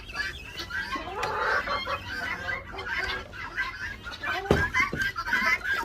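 Several chickens clucking in a busy coop, overlapping calls at close range with steady farmyard background noise and a few sharper squawks.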